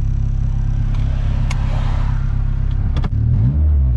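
A turbocharged 350bhp Honda Civic EP3 accelerates hard, its engine droning loud and close from inside the cabin, with a brief shift-like break near the end before the revs climb again.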